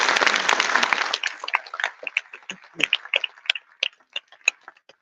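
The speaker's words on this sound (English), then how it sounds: "Please, a round of applause" Audience applause at the 2023 World Congress opening ceremony in Sydney: a dense burst of clapping for about a second that thins into scattered, isolated claps trailing off, with a voice speaking over the tail.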